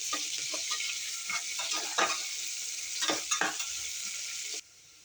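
Sliced onions with salt frying in a pan for cooker biryani, a continuous bright sizzle broken by several scraping stirs of a spoon, close up, then the sizzle cuts off abruptly near the end.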